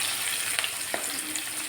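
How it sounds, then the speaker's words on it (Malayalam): Shallots, ginger and green chilies fry in coconut oil, a continuous dense sizzle with a few soft pops, close and steady, with no talking. "ചുമന്നുള്ളി ഒരുവിധം മൂത്ത് വന്നപ്പോൾ ഞാൻ അതിലേക്ക് ഇഞ്ചിയും അതുപോലെ തന്നെ പച്ചമുളകും ഇട്ട് കൊടുത്തിട്ടുണ്ട്"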